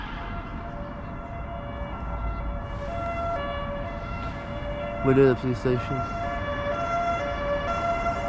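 Wailing police sirens hold steady tones in the background while a person speaks briefly partway through over traffic noise.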